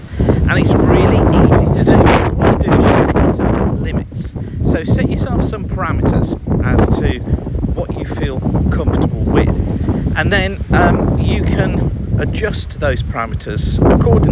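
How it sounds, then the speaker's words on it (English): Fresh breeze wind gusts through trees on a countryside walk, buffeting the microphone loudly and constantly, with rustling underneath while someone talks over it throughout. "you can probably hear the wind that's blowing through here right now"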